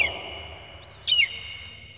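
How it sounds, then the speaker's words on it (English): A single eagle call, a thin high whistling cry rising and falling once near the middle over a faint steady hiss, alone with no voices. "E for eagle."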